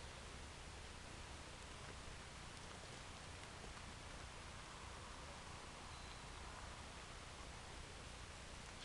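Rain falls outdoors as a steady, even hiss of drops with no breaks, faint and continuous for the whole stretch and with no voices.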